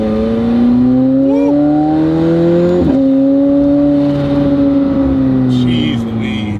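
McLaren supercar engine pulling hard under acceleration, a loud sustained rising roar with a quick gear shift midway, heard from inside the car.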